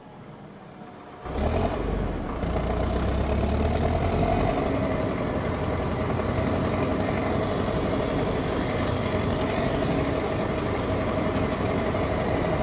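Heavy forestry tractor engine running at a steady idle, a loud continuous low rumble that starts abruptly after a short quiet lead-in and holds even throughout, with a faint high whine above it.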